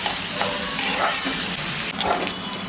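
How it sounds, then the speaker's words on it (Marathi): Onions frying in a pan until browned for a dried-shrimp (sukat) chutney, a steady broadband sizzle with occasional stirring scrapes, close and fairly loud, no talking. "कांदा लाल होईपर्यंत भाजून घ्यायचा आहे।"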